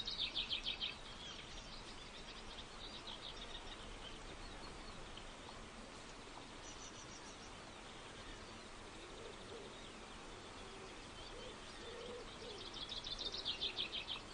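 Birds calling around a reed warbler nest where a cuckoo chick has hatched, a steady bed of chirps and twittering with brighter bursts of song at the start and end, heard outdoors with no voices.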